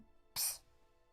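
A single short, sharp sneeze bursts out during a tabletop role-playing game session, brief and moderately faint against a quiet room.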